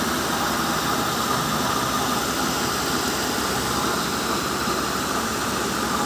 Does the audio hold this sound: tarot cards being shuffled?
no